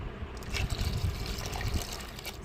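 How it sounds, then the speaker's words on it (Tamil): Water splashes and trickles steadily into a curry pot, a continuous liquid pouring sound with no voices. "தேவையான தண்ணி சேர்த்துக்கிறோம்"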